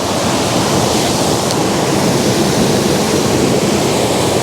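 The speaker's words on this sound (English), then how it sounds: "the water spilling down" Water spills down over leaf-strewn rocks in a Scottish forest, a steady, loud, close rushing roar that runs unbroken throughout with no voices.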